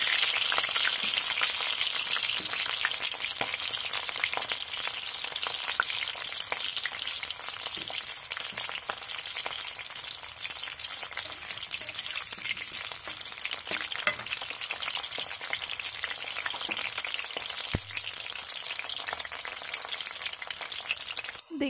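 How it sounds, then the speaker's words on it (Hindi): Vegetables including cauliflower deep-fry in hot oil for Indian aloo gobi matar sabzi, a steady crackling sizzle with dense popping and spitting, continuous and close, no talking throughout. "हम अभी सारा वेजिटेबल को तल लेंगे।"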